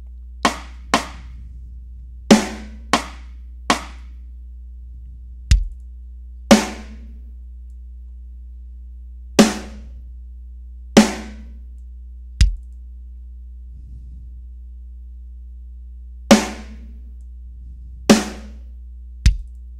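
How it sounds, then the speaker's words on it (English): Sparse programmed drum hits: sharp, dry snare-like cracks and low kick thumps in an uneven pattern, isolated with silence between them over a steady low hum. "So now here's our drum beat."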